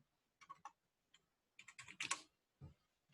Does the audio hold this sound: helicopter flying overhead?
no